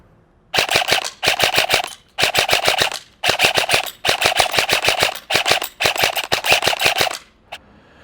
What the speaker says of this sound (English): KWA, I'm expecting the next versions to have Deans or Airsoft T-plugs or whatever you decide to go with, but Tamiya's got to go. shoot some more rounds.